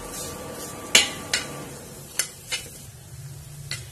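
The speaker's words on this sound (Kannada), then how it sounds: "ಇನ್ನಿದಕ್ಕೆ ತೆಂಗಿನ ತುರಿ ಹಾಕೊಳ್ಳೋಣ. ಚೆನ್ನಾಗಿ ಮಿಕ್ಸ್ ಮಾಡ್ಕೊಳ್ಳಿ." A spatula stirs brinjal curry with grated coconut in a pan, giving close, sharp scrapes and clinks against the metal at irregular intervals over a faint, steady background hiss.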